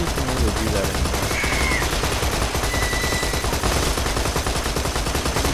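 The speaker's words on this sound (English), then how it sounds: "Light scatter gun." A light scatter gun in Borderlands 2 fires in a dense, continuous barrage of loud rapid shots lasting the whole stretch, with a couple of brief whining tones over the top.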